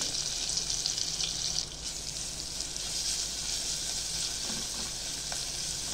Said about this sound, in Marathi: अशी खमंग फोडणी आता ही आपल्याला चांगली छानपैकी भाजून घ्यायची मंडळी।